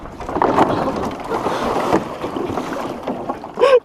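A fishing boat moves across water with a rushing wash of spray and wind buffeting the microphone, ending in a brief louder splash as a camera falls into the water.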